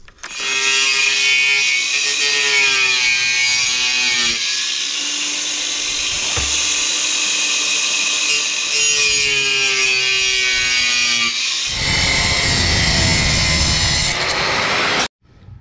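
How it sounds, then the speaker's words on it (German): An angle grinder fitted with a plastic-cutting disc slices through a plastic part in a farm workshop, a loud, sustained high whine with steady grinding tone, briefly dropping near the middle and ending with a rougher cutting burst before stopping abruptly. "Wir nehmen wieder unsere Plastikschneideflex."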